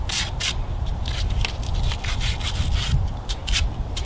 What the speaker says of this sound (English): take either a wet sandpaper, a dry sandpaper, steel wool or something, and I'll go over the burrs